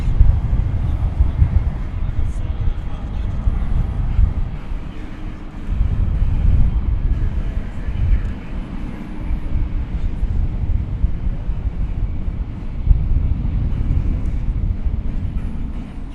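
A Singapore Airlines airliner taxis at DFW Airport, giving a steady low jet rumble with wind noise that swells and eases over time, fairly loud and continuous.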